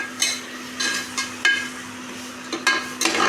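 Tomatoes and garlic sautéing in oil in a pan, with close stirring scrapes and short sizzling bursts repeating every second or so over a faint steady hum, and no talking.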